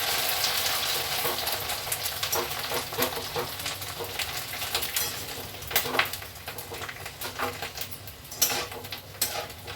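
Papad fry in hot oil in a kadhai with a busy, continuous bubbling sizzle, punctuated by scattered clinks and scrapes of a utensil against the metal, growing livelier toward the end.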